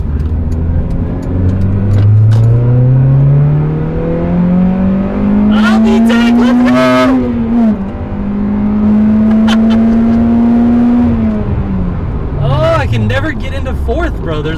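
A 2004 Acura RSX Type S fitted with an Invidia Q300 exhaust pulls hard through the gears, a rising engine drone climbing in pitch, dropping at a shift and climbing again, loud and close from inside the car, with voices speaking over it.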